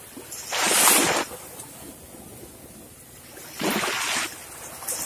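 Large ocean waves break at the shore in two loud, broad washes of surf a few seconds apart, each rising and then fading into a low hiss, with no voices.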